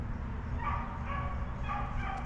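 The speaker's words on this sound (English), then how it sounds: "Oh, there's a dog." A loose dog chasing deer on a hilltop gives a few faint, distant yips and barks over a steady outdoor rumble, with no voices.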